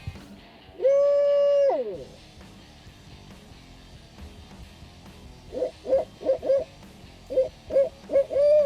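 A man imitating an owl hoot to call owls makes one long, loud, drawn-out call, then a quiet pause, then a rhythmic series of short, rapid hoots in the outdoor quiet.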